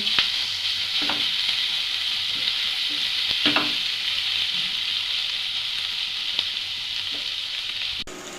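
Chicken sautéing with onions in a hot pan for momo filling, a steady bright sizzle close up, punctuated by several soft scraping stirs and clinks of a utensil.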